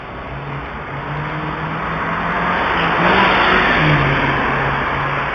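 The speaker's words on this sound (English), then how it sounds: "revving his engine, sweeping his car back and forth to shine his lights" A utility vehicle revving its engine at one in the morning outside a house, a loud, rising and swelling engine roar that builds and holds near the listener.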